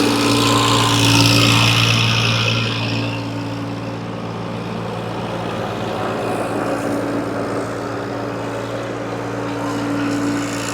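Eicher and Swaraj tractors race side by side in a demo contest, their diesel engines droning steadily with a strong low hum, loudest at the start and then holding a constant rumble throughout.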